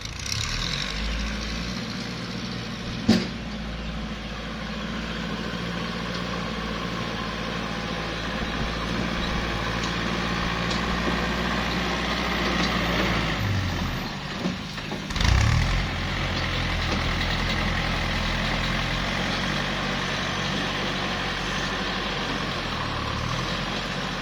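A Kubota L5018 tractor diesel engine runs steadily with a deep, constant low rumble and loud continuous drone, a brief knock around three seconds and a short surge near fifteen seconds.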